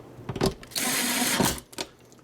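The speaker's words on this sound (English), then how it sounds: "let's throw some screws in it." Screws rattle and clatter into a bag in a short burst of metallic jingling, close and fairly quiet, with a few lighter clicks before and after.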